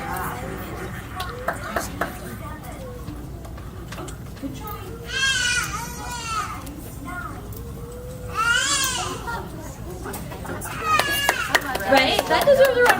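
A young child cries in short bursts of rising, wailing sobs during a family session, with other voices and background noise between the outbursts.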